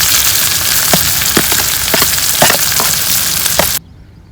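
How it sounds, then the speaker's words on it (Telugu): Chopped onions frying in hot oil for an Andhra-style egg curry: a loud, dense, continuous sizzle close to the pan, with scattered crackles and stirring clicks, cutting off abruptly near the end. "కటింగ్ చేసిన ఆనియన్స్ ఇందులో వేసుకొని బాగా కలుపుకుందాము. బ్రౌన్ అయ్యేంత వరకు కలుపుకుందాం దీంట్లోకి."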